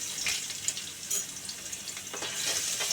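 Chicken curry base stirred in a hot pan, a continuous bright sizzle broken by uneven scraping strokes of the spoon, close and fairly loud with no talking.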